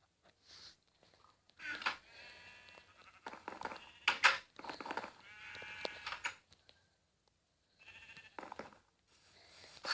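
Sheep bleating in a video game, several wavering bleats from more than one animal in irregular bursts over about ten seconds, moderately loud and close, with no talking.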